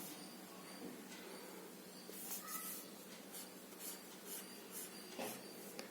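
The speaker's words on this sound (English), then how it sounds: "I can draw some diagram. See here." Quiet hand drawing of a fraction diagram, with soft scratchy pen or pencil strokes and brief rubs in short bursts, close and faint.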